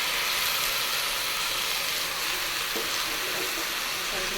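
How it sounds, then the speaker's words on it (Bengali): Onion, tomato, ginger-garlic paste and chilli paste frying together in a pan, giving a steady, dense sizzle that stays loud and even throughout with no pauses. "পেঁয়াজ ভাজা হয়ে গেছে, দিয়ে দিলাম টমেটো, পেঁয়াজ বাটা, আদা রসুন বাটা"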